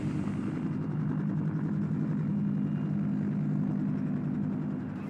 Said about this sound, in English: And then the last helicopter left.